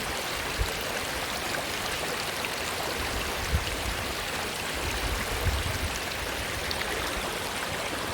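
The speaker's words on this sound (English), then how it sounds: "I'm sure you're hearing the most beautiful sound of the water running on the rocks." River water rushing over rocks in a forest, a steady broadband wash of flowing water with no talking.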